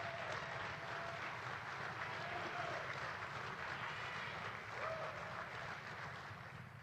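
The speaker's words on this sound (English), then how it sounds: "A nice round of applause for all of them," At the 2023 Otto Graham Awards ceremony, an audience gives the honoured award class a round of applause, a fairly faint, steady, distant-sounding wash of clapping.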